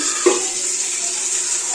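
Tap water runs steadily into a kitchen sink while spinach greens are rinsed, a continuous hissing gush at fairly loud level with a brief splash near the start and no talking.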